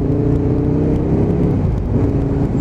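An Aprilia RSV1000 Mille motorcycle engine pulls hard under acceleration, with a continuous loud, dense roar close by and no voices.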